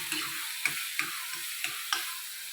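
Ground onion paste sautéing in oil for palak curry, a steady soft sizzle with several light spoon scrapes spaced through it, close by with no talking.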